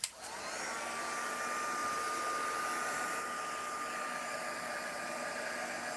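A hair dryer blows steadily over a glitter-sprinkled Christmas decoration, a loud continuous whoosh with a thin whine, starting abruptly and holding even for six seconds with no voices.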